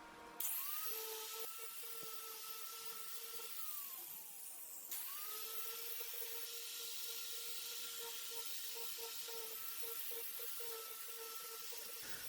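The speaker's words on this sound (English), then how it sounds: "On the front, I ground away some of the more soft wood and blended it" High-pitched power tool whining while grinding soft wood from driftwood boards, the motor pitch rising and dipping as it spins up and bites into the wood, steady and close.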